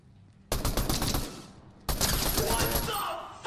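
Two loud bursts of rapid automatic gunfire in Fortnite, the first lasting about a second and the second running to the end after a short gap. Background voices sit faintly under the shots.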